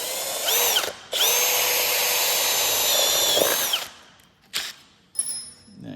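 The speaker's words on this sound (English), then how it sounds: "Then I take my big old step bit." A power drill fitted with a step bit bores into metal on a Jeep: a long, loud whining run that winds down, then brief short bursts of the drill starting and stopping, close up.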